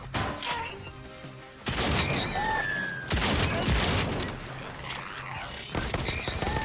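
Pistol and shotgun fire in the VR shooter Robo Recall, with sharp shots and crashing impacts in quick bursts, fairly loud and close, plus synthetic game tones and a voice speaking briefly in between.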